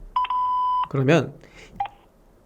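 Telephone keypad dialing tones: three quick beeps in a row, a brief voice speaking, then one more short tone, close and clear.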